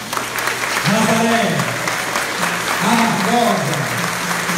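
Congregation applause during a Catholic installation Mass in a church, steady clapping held at an even level while someone speaks over it.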